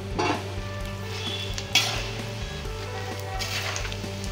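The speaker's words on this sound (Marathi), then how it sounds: "खोबरं घालणार भाजायला, म्हणजे ते गरम तुपात भाजलं जाईल." Desiccated coconut roasting in hot ghee for a coriander panjiri offering, giving a steady close sizzle and crackle with a brief scrape of stirring partway through.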